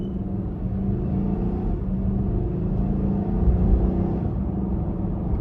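A 2024 Nissan Armada SL Midnight Edition SUV pulls hard from inside the cabin, with a low, steady engine rumble and road noise swelling slightly toward the end and no voices.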